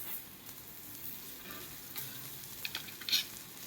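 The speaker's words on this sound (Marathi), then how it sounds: "गरम करून घ्यायचा आहे बटर लावून" Pav bread heating with butter on a pan gives a faint, steady sizzle close by, with a few soft scrapes near the end.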